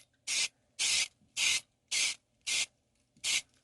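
Spray can of flat white or black primer misting a diecast monster truck body in six short, even bursts with brief pauses between, close and fairly loud.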